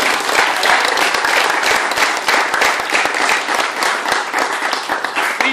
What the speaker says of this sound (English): another round of applause for David